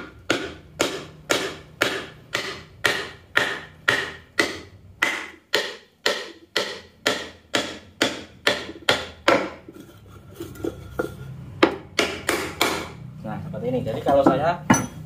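A cylinder liner for an Isuzu Panther diesel engine is tapped down into the block with a piece of wood, giving a steady run of about twenty close, hollow knocks, then a pause with faint clatter and a few final knocks.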